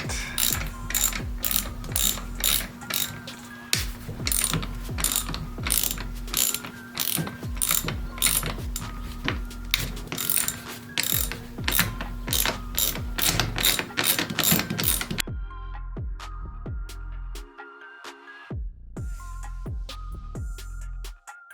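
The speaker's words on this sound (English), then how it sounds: "so I could use a socket wrench instead of just the T20 screwdriver" A ratchet socket wrench backs out screws from a factory BMW F30 335i steering wheel, with fast, steady clicking that later breaks into short bursts of clicks separated by brief pauses.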